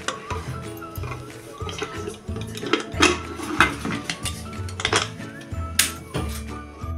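A spoon stirring dal in a metal pressure cooker, followed by the lid being fitted on, with close scraping, knocks and clinks of metal at an uneven rhythm.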